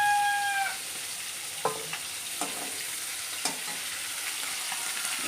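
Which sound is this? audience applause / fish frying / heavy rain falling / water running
fish frying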